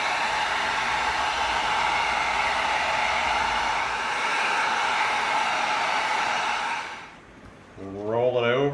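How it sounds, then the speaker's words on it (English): Heat gun blowing hot air onto EVA foam to soften it for bending: a steady, loud, close broadband whoosh lasting several seconds, then cutting out abruptly as a voice begins speaking. "We're gonna heat this up in the middle, and we're gonna bend it just to help us out a little bit."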